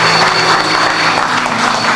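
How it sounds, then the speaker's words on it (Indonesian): A church congregation applauds in a continuous, loud wash of clapping that fills the room evenly for a couple of seconds, with a faint steady hum underneath. "Boleh apresiasikan tepuk tangan buat Tuhan Yesus"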